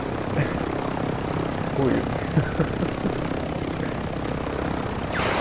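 A helicopter comes in to land in Warzone 2, its rotor and engine giving a loud, continuous drone throughout, with a brief exclamation from a player heard over it.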